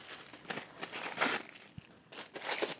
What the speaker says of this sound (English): With the tissue paper, actually I like to tear it because it gives a more interesting edge.